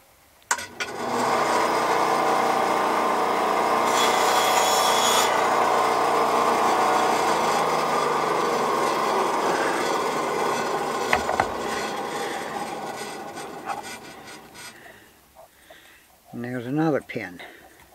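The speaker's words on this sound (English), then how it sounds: "And then we'll cut that off on the bandsaw." Bandsaw cutting off a wooden axle pin for a toy car, a sustained whirring blade with rasping wood cut lasting several seconds, then winding down with brief voice afterward.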